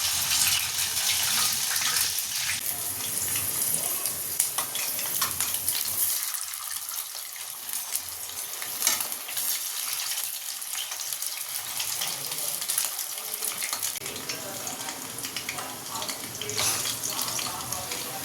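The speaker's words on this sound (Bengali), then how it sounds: "চলো তেলটা তো গরম হয়ে গেছে এবার লেগ পিসগুলো দিয়ে দেবো" Chicken leg pieces frying two at a time in hot oil, giving a loud, continuous hissing sizzle that holds steady with no talking.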